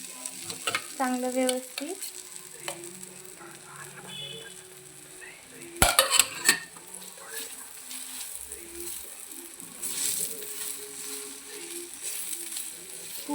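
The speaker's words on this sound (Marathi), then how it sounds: "छान खरपूस असं भाजून घ्यायचं पराठ्याला" A paneer paratha sizzles steadily in ghee on a pan, with soft frying crackle throughout. A few sharp clanks come from a utensil against the pan, and someone talks over the cooking.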